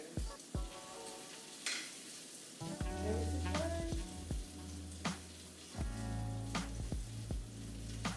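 Mixed vegetables sizzle in a hot pan for a spring-style paella, a steady frying hiss broken by clanks and scrapes of stirring and a few knocks of the pan, with no talking.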